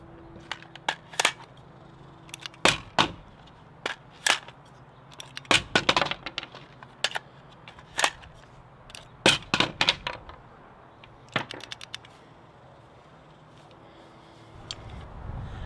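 An Odin Works XMR extended magazine release on a rifle catches and releases the magazine, giving repeated sharp metallic clicks and clacks, some single and some in quick pairs, close up with no talking.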